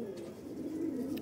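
Domestic pigeons coo softly in a low, rolling murmur, close and steady, with no voices present.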